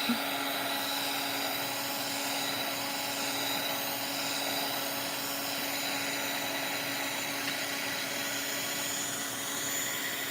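A heat tool blowing hot air to dry paint on a craft project, a continuous even whirring drone with a steady fan hum that holds at one level from start to finish, close and fairly loud, with no voices.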